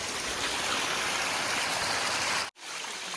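Loud rushing water pours and splashes continuously down an Appalachian Trail path like a small waterfall close by, then briefly cuts out and resumes.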